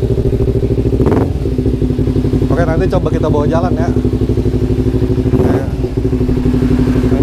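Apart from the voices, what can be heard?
Kawasaki Ninja FI motorcycle engine running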